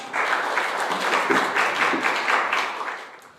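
An audience at a social economy policy forum in Korea claps together in a sustained, even burst of applause that stays strong throughout before easing slightly at the very end.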